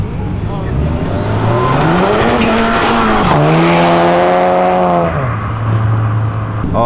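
Honda Civic Si engine held against the rev limiter on a street, a loud, continuous high-revving tone that climbs, holds and bounces with stuttering cuts, then drops back, under people talking.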